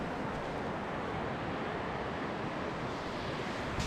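Waves break continuously on a wild North Sea beach in Scotland, a dense, steady wash of surf with wind rumbling across the microphone and no voices.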